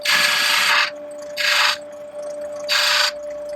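A spindle gouge cuts into a spinning wooden mallet cap on a lathe in three separate bursts of hissing, scraping contact. A steady motor hum runs underneath, and there is no talking.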